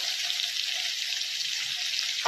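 Potato pieces with salt and turmeric fry in hot oil, giving a steady, close, dense sizzle with no pauses and no voices.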